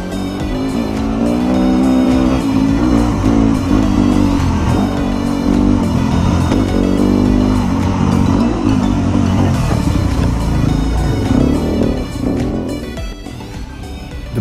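A motorcycle fitted with an FMF Racing PowerCore 4 exhaust and MegaBomb header revs loud and close, its engine roar holding steady and rising and falling in pitch for many seconds before easing off, with no voices.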